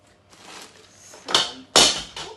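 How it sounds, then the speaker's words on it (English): Metal pot lid falling and clattering in a kitchen, a couple of sharp crashing hits in close succession following softer rustling; loud and close, with no talking. "My pot cover just crashed, just fell down."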